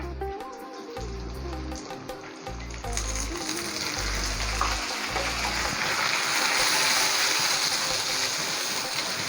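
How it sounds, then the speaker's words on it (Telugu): Tomatoes fry in hot oil for a Tamil Nadu style anchovy fish curry. After a few seconds of soft background music, the pan breaks into a steady, loud sizzle and spatter that continues to the end. "టమాటో వేసిన తర్వాత ఇవన్నీ బాగా ఫ్రై అయ్యి"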